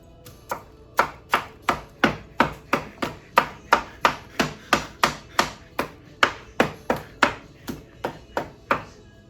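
A big knife chops through apple turnover dough on a board in a steady run of about twenty sharp, evenly spaced knocks, close and clear, with no talking.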